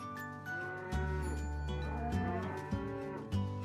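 Cattle on a regenerative cattle property moo repeatedly in several deep, drawn-out calls, loud and close, with no talking.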